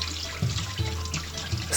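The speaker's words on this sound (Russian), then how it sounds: "Откидываем ее на дуршлаг и промываем в холодной воде." Cold tap water runs steadily onto glass noodles in a colander, with a constant close splash and small gurgles as the noodles shift under the stream.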